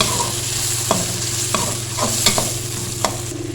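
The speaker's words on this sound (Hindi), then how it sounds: "अब सबसे पहले हम डालेंगे इसमें मटर, क्योंकि मटर जो होते हैं वो देर से गलते हैं। ये डाल देंगे साथ। इसको थोड़ा सा करेंगे फ्राई।" Green peas frying in a pan for egg fried rice, a steady close sizzle with periodic scrapes and knocks of a spatula stirring them every second or so, no talk.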